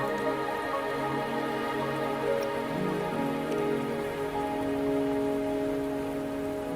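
Steady rain falls across a scene in the video game Wuthering Waves, a continuous even patter over layered game music that holds at the same level throughout, with no other clear events standing out.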